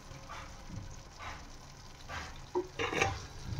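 Spices such as salt, turmeric and coriander powder are stirred into a makhana tomato masala in a pan, quiet rhythmic scraping strokes over a soft, low sizzle.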